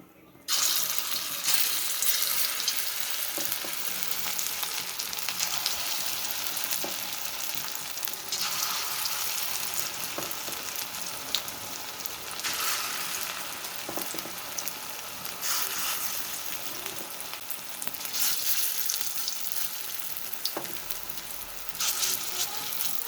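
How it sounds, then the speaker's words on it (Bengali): Lentil fritters (bora) fry in hot oil in a home kitchen, giving a steady, close, loud sizzle that crackles on without pause and with no voices. "তো দেখো এখানে বড়াগুলো ভাজছি"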